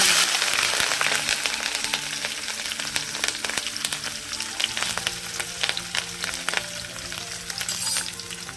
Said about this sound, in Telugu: తాలింపులో వేస్తున్నా పచ్చిమిర్చి.